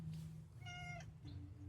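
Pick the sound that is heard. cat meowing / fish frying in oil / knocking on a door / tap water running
cat meowing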